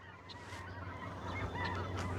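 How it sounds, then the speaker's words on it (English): Geese honking over a frozen field: a flock calling repeatedly, several overlapping honks at moderate distance over a low steady hum, with no talk. "These birds are so loud today."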